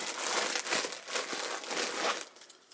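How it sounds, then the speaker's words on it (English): Close, continuous crinkling and rustling of crumpled material, steady and fairly loud with small bursts, no voice present. "sorry, rustling about to occur"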